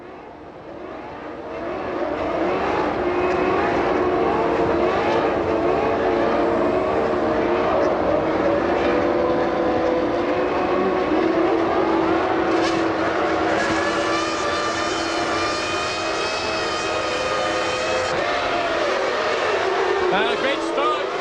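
Twenty-two Formula One cars at the start of the 1997 British Grand Prix, their engines revving toward 17,000 RPM, build into a loud sustained scream that swells after a quiet opening and holds with rising, shifting engine tones.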